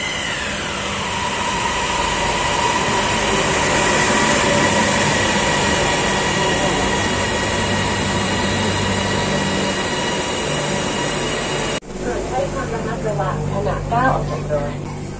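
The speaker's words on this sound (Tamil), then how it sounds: "ட்ரெயின் வந்து இருக்குது மெட்ரோ." A metro train pulls into a Bangkok station, arriving from the airport. Its steady rumble, hum and high wheel tones fill the platform at close range, and after the stop a muffled crowd murmur and announcements carry on underneath.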